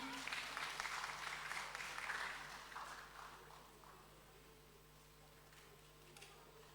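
A church congregation applauds to welcome a reverend preacher to the pulpit, a dense wash of clapping that is loud at first and then thins out over the next few seconds.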